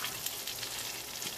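Breaded chicken parm sizzles in a frying pan with a soft, steady crackle of hot oil and faint pops, quiet and close, heard alone without talking.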